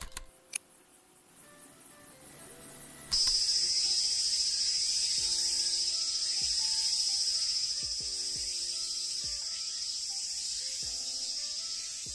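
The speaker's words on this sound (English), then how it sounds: "It's that distinct but familiar buzzing sound that's in the background of every anime series ever." Background insect buzzing, the kind heard in anime series, switches on abruptly after a quiet start and holds as a steady, bright high drone, with faint ticks and tones scattered beneath it.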